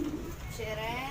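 A pigeon gives a soft, low coo close by, while a person talks over it in the same moment.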